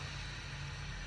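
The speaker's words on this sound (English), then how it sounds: "It's some very loud truck is backing out there." A very loud truck backs up across the street, heard as a steady low engine drone and rumble that fills the moment at moderate distance, with no talk over it.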